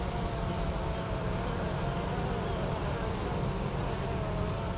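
Honeybees buzz densely at a hive entrance while foragers bring in pollen, a constant close droning hum from many wings with no break throughout.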